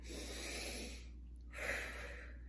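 Shallow shoulder breathing is demonstrated during a children's yoga lesson: a long, airy, close-up inhale, a brief pause, then a slightly stronger breathy exhale, heard alone over faint low hum.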